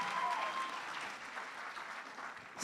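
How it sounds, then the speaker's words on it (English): A crowd applauds after a singing performance at a university cultural mela, with steady, fairly faint clapping throughout and a brief whistle-like cheer near the start. "Let's hear another round of applause."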